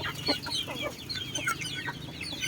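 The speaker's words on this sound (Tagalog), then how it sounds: "Ngayon is magpapakain na naman tayo ulit ng ating mga alagang mga manok." Chickens cluck at feeding time on a farm, with a flock's overlapping short clucks and calls close by and continuous throughout.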